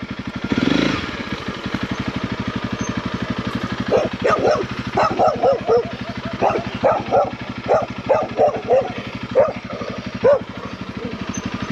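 A sheepdog near a flock in Sardinia barks repeatedly in uneven bursts over the steady, loud rumble of an idling motorcycle engine close by.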